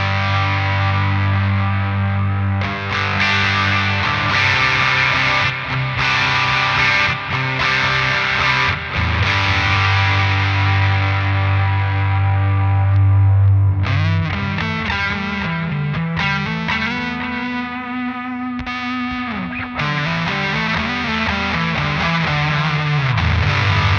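Electric guitar played through a PastFx Echo 600 echo pedal, thick and distorted with added harmonics, strummed chords giving way to sustained, wavering echoed notes, loud and alone with no talking.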